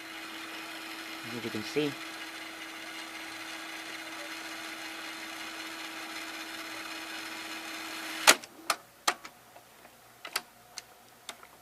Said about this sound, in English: It'll rewind faster because it's near the beginning